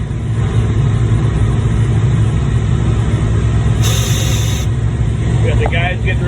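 A concrete pump truck sits idling on a job site before a pour, its diesel engine holding a loud, steady, close rumble throughout, with a brief hiss partway through and faint voices in the background.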